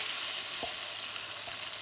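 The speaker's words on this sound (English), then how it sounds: "You can hear that sizzle there" Steady, bright sizzling of Guyanese pone batter on a hot tawa, continuous and even, with a couple of faint clicks from a utensil.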